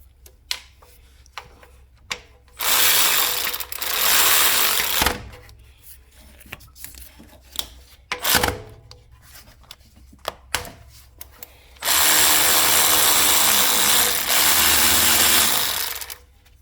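A ratchet works on a 12mm bolt on a Mazda 323 Protege thermostat housing, rapid ticking clicks in short bursts between quiet pauses, with two longer sustained stretches of dense clicking.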